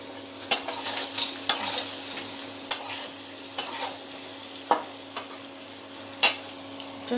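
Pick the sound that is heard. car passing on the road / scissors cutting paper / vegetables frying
vegetables frying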